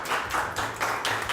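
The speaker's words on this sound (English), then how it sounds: "Clap your hands" Hands clapping in an 8th-grade classroom, a few quick rounds of brisk claps in steady bursts, fairly close and moderately loud, with no talking.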